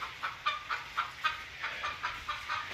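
A hen clucks in a steady run of short, close pulses, about four per second, continuing without pause over a quiet background, while trying to lay an egg on a tractor.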